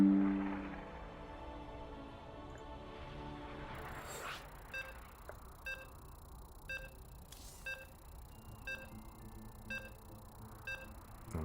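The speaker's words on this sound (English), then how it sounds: "You can hear the beeps" StarCraft II match-start countdown beeps on the Abyssal Reef map: a series of short, evenly spaced electronic beeps, each about a second apart, over a quiet game backdrop after a brief lower-pitched intro tone.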